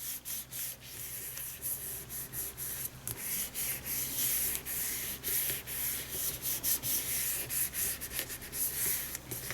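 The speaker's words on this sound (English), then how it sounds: "you take your card to the ink and press it down firmly, rub your hands all over" A greeting card pressed onto an inked stamp while hands rub firmly over it to make a wood grain effect, giving a steady, close dry rubbing and scuffing sound with repeated short strokes throughout, no talking.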